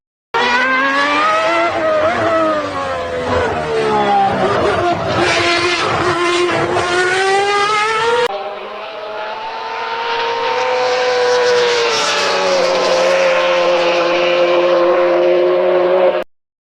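AI-generated imitation of a Ferrari 640 Formula 1 racecar, a loud continuous high-revving engine whine with rising and falling pitch sweeps, abruptly shifting to a smoother, slightly different drone halfway through before cutting off.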